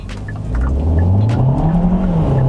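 A Hyundai Kona gasoline car pulls away hard from a standstill, its engine note climbing steeply and loudly up through the revs over a couple of seconds.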